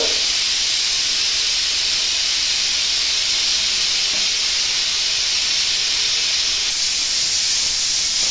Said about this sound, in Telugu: ఆయిల్ అయితే హీట్ అయింది. దీనిలో అయితే ముందుగా చెక్క వేసుకుంటున్నాను. తర్వాత 5 లవంగ మొగ్గలు, 4 యాలకులు,